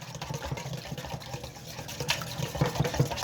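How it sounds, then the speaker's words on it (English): French toast egg mixture whisked in a bowl, a quick irregular clinking and sloshing of liquid close up, steady for a few seconds with no talk. "So whisk it again."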